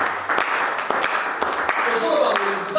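Congregation in a church clapping and cheering, with sharp scattered claps over a steady wash of crowd noise and voices, loud and close throughout.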